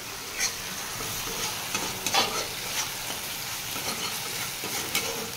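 Food frying in a pan is stirred continuously, with repeated scraping strokes over a steady close sizzle and no voices.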